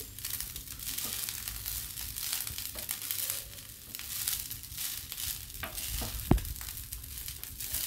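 Egg fried rice stirred in a pan, giving a steady soft sizzle with scraping and crinkling stir sounds, one sharp knock partway through, no voices.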